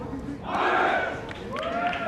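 Fans at a 2022 high school lacrosse game between Sterling and Camden Catholic let out a short burst of yelling and cheering that swells and then tapers, with voices audible in the crowd.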